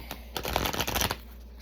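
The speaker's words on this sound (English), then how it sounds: "A quick shuffle up" Quick shuffle of a tarot card deck: a short burst of rapid papery riffling and card slaps, close and clear, lasting about a second.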